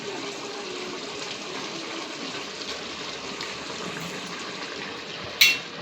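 Chicken simmering in a cooking pot with water drawn out of the meat, giving a steady, even bubbling and hiss throughout, with a single brief clink near the end.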